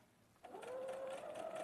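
A sewing machine runs steadily while stitching a curved seam, starting after a brief quiet moment and then holding a continuous close, even motor hum with a fast rhythmic whir.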